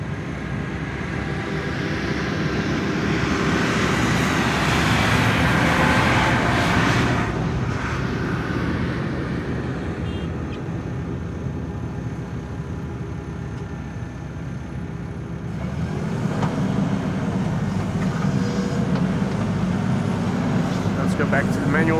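A KLM Embraer E190 airliner arriving from Oslo roars in on approach to Schiphol's Polderbaan runway 18R, a loud broad rumble that swells, eases, then builds again.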